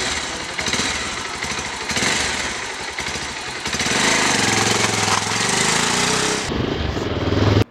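A 2019 Bajaj Pulsar 220F motorcycle with 15,222 km on it pulls away, its engine loud and close, a steady rough drone whose pitch climbs as it accelerates, with wind rush filling the top.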